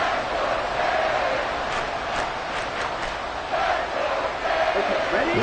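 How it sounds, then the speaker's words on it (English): Dense roaring stadium crowd noise fills an American football video game during a Dolphins wildcard playoff matchup on a tense third and long, steady and loud throughout. "This crowd turning up the decibel level."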